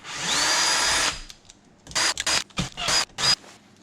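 A power tool works loose the engine block bolts of a 20-horsepower moped, starting with one steady whirring run of about a second, then a string of short sharp bursts close by.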